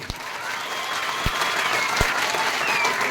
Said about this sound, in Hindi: और जोरदार ताली होनी चाहिए इस पे